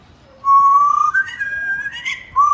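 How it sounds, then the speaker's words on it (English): A pet bird whistling a melody: clear, pure tones held and stepped between pitches, close and fairly loud, with a short gap before a final note. "Poco, can you whistle us a tune?"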